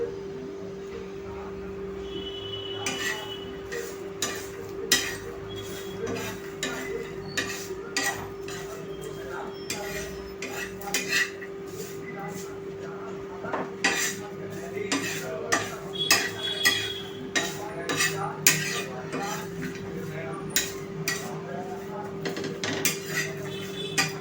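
Garlic and coconut roasting in a pan over a medium flame while being stirred, giving repeated metallic scraping and clinking of a spoon against the pan, close and irregular above a steady low hum.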